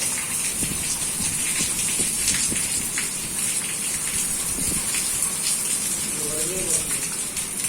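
Steady rain pours down in a dense, continuous hiss, with a brief faint voice near the end.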